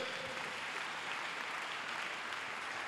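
A church congregation applauding to acclaim the Lord, a dense, even wash of clapping from many hands, sustained and fairly distant, with no distinct voices.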